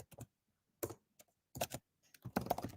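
Clicks of typing on a computer keyboard, quiet and close, coming in short bursts of a few keystrokes separated by brief pauses.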